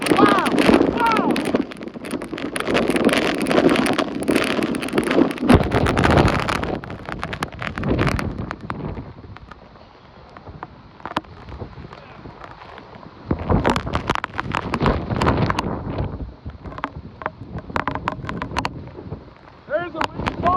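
Hurricane Sally's wind gusts roar in Gulf Shores, Alabama, a loud broadband rush with heavy microphone buffeting that eases midway and then surges back, while people exclaim over it.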